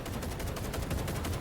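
Sustained rapid gunfire in the video game Cyberpunk 2077 Phantom Liberty, a dense continuous burst of shots filling the whole moment, loud and close with no pauses.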